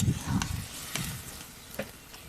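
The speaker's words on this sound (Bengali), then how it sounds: "তো দেখেন, আসলে এই যে ভালোভাবে নেড়ে চেড়ে নিচ্ছি।" Red amaranth leaves stir-fried in a pan, giving a soft sizzle with a few scraping stirs of a spatula near the start. The sound stays fairly quiet and close, fading toward the end, and no one speaks.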